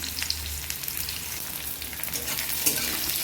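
Large-cut onion pieces fry in hot oil in a wok, a dense continuous sizzle close up with light stirring crackles and no talking.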